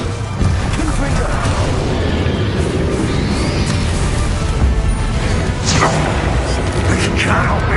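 A Confringo blasting curse going off during a Hogwarts Legacy battle, with loud booming blasts and crashes over a dense, continuous combat din that carries scattered voices.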